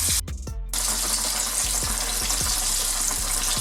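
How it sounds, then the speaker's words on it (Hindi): Zinger burger chicken deep-fries in hot oil, a steady close-up sizzle and crackle with soft periodic ticks, briefly disturbed by a clatter at the start, no speech. "दूसरे को हमने डाल दिया ऑयल में फ्राई होने के लिए"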